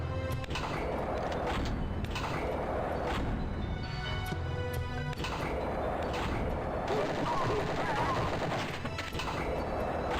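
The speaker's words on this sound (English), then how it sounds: "Alright, rocket launcher." Rocket launcher fire in Wolfenstein 3D on the 3DO, loud game weapon blasts amid continuous gunfire and explosions across the whole stretch, with a dense, constant level throughout.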